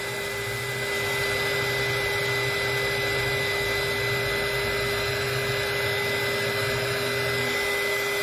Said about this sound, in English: let me get my little heat tool right here